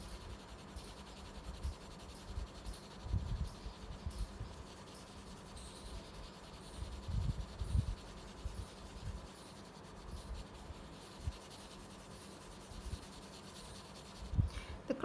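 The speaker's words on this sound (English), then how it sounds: "use your pencil in circles" Colored pencil shading on paper in small circular strokes gives a soft, steady, close-up scratchy rubbing that runs continuously with faint irregular swells.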